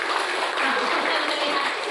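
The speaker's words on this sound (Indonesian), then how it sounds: "Ini tepuk tangan buat gadisnya ini." An audience of mothers at a district stunting case audit meeting gives steady applause, a dense, even patter of clapping held without pause.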